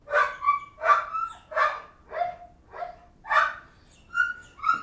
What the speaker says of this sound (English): So first of all, I have a dog bark.